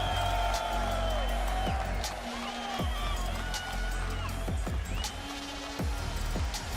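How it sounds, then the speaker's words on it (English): Large esports arena audience at the Cologne Major playoffs cheering, whooping and applauding, a dense continuous roar with scattered shouts and whistles throughout. "we'll get a round of applause from this amazing audience"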